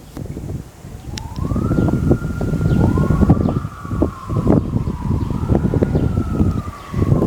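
Ambulance siren heading to a hospital emergency entrance, a loud wailing tone rising and falling slowly, heard close over heavy wind rumble and traffic noise, with no talking.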